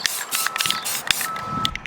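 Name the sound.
spray paint being sprayed onto a skateboard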